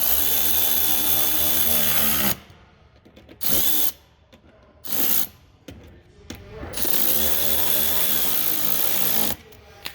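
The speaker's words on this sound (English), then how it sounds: "I'm gonna get my 7 mil, go ahead and tighten these ones" Bursts of a power ratchet tool tightening bolts with a 7 mm socket on a Ford Super Duty truck, loud and close, in several start-stop runs with short pauses between them.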